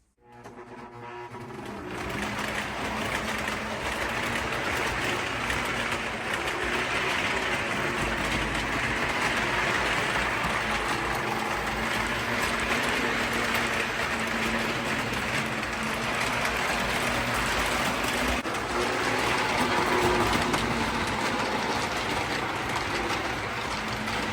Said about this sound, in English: The first train, I'm going to run over this finished scenery